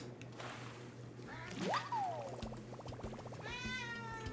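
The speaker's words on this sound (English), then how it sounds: "That was a good meow." A cat lets out a rising then falling meow, followed by a rapid purring trill and a second wavering meow, close and clear over a low steady hum, with no talking.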